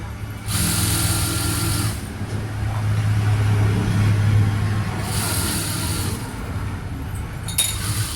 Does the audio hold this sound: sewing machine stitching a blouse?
yes